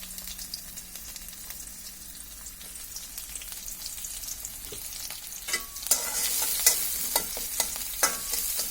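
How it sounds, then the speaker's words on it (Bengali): Chopped onion and green chili sizzle steadily in a pan, with scraping stirs and clatters growing louder toward the end; no voices. "পেঁয়াজ আর মরিচ বেশি ভাজার প্রয়োজন নেই"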